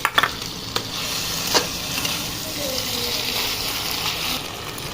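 Small whole potatoes tumble into a pan of frying chicken and are stirred, a sharp clatter at the start giving way to steady loud sizzling and scraping stir sounds with no talk.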